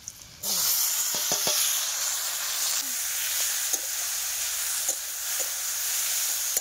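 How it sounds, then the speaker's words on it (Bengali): Chopped onion frying in oil in a pan, a loud, steady sizzle that starts abruptly and continues throughout, with a few light scraping ticks early on. "পেঁয়াজ কুচি দিয়ে দেবো আর একটু তেল দিয়ে দেবো।"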